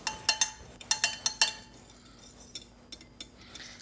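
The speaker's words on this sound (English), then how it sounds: "I'm just gonna mix this together with a fork." A fork clinks against a dish while mixing a soy sauce, steak sauce and steak seasoning marinade for tofu steaks, with a cluster of sharp clinks and a few isolated taps later, close and fairly quiet.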